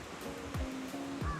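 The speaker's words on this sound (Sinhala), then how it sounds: "එතනින් දැන් මේ පැත්තට වතුර ගලන් යනවානේ." Floodwater pours steadily through lake sluice gates, a continuous rushing wash of water with no pauses, close and fairly loud, with faint tonal hum in the background.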